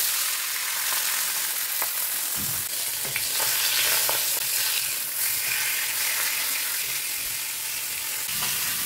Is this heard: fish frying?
yes